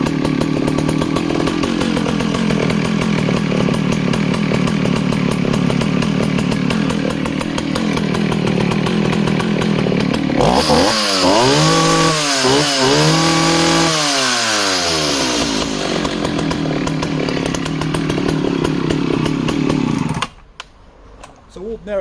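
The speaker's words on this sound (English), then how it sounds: "this is me starting her every time with no throttle lock" A Husqvarna 262XP or Partner R16 chainsaw, started without the throttle lock, runs loud and close with a steady idle, then revs hard in rising and falling bursts before cutting off abruptly.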